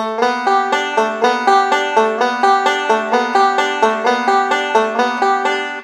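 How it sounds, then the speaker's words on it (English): A banjo plays a quick, steady Scruggs-style rolling four-point hammer-on lick, bright and close, repeating evenly for several seconds with no talking. "So once again, that's the 4-point hammer-on."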